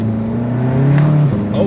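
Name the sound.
tuned VW MK7 GTI accelerating in first gear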